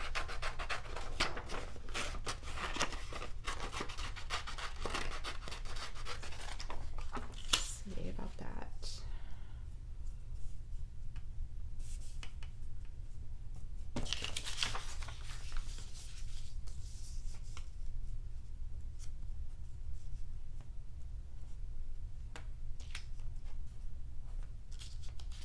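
Scissors trim a paper collage picture, cutting a background image down in a series of soft snips and papery rustles. A person talks over a steady low hum.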